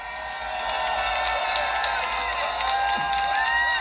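A rally crowd cheers, whoops and claps in a sustained, dense roar of voices and applause, with children's shouts audible, welcoming a guest onto the stage at an outdoor political gathering by Samgakji Station.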